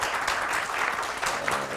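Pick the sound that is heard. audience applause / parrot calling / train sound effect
audience applause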